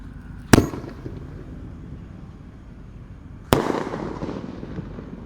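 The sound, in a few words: firecrackers and fireworks exploding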